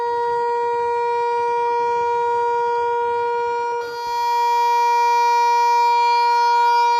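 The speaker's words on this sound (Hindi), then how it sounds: "सायरन बजाकर आवाम को खबरदार किया गया" Civil defense warning siren in Rawalpindi sounds a sustained, steady wailing tone to alert residents of flooding after heavy rain, loud and continuous, with a brief dip before it resumes slightly stronger.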